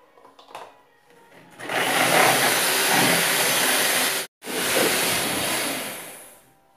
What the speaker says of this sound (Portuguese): Aí a gente vai bater na batedeira por aproximadamente 15 minutos